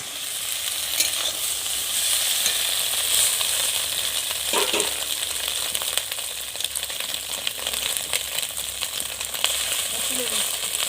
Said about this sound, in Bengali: এবার আমি ডিমটা ঘেঁটে দেবো।